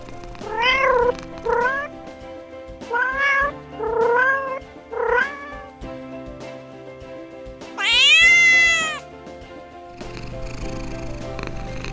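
A cat meows repeatedly in short, close calls, then lets out one longer, higher wail before a low rumbling purr sets in.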